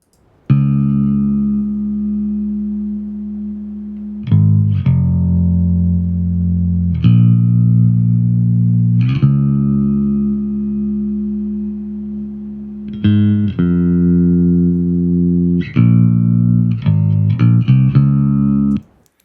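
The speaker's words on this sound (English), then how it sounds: "So here's the bass with the sidechain on." Deep synth bass notes holding steady tones, changing pitch every few seconds, with a pumping, ducking swell on each note and no voices.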